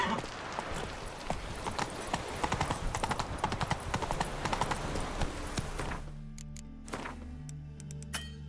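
Horse hooves gallop in a steady clip-clop rhythm through The Witcher 3 on PS5, loud and continuous for about six seconds before the running stops and quieter game sounds remain.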